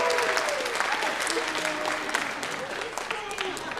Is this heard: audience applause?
yes